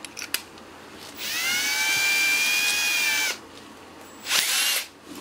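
Power drill bores into a wooden dowel rod, a steady high whine held for about two seconds, then a shorter second burst, close and loud after a few small clicks.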